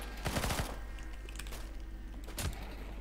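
Gunfire in the CS:GO Danger Zone battle royale game, a quick rattling burst of several shots early on, then a single sharper shot later, fairly close over steady background game noise.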